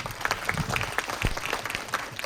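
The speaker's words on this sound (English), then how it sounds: "big round of applause for last year's Astronomy Slam Champion," A crowd at an astronomy slam event in a university planetarium applauds the previous year's champion with a dense, steady wash of many hands clapping, moderately loud and continuous throughout.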